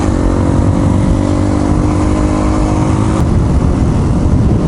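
A motorcycle accelerates hard in first gear during a power wheelie attempt, a loud, close engine roar with rising pitch that stays strong throughout.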